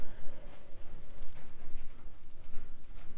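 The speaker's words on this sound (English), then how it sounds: "We can hear the raindrops on the roof." Rain falls on a roof in steady, close patter, with irregular louder drops and drips tapping over a continuous soft hiss.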